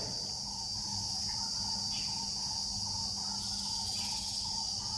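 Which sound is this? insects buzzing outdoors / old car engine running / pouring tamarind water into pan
insects buzzing outdoors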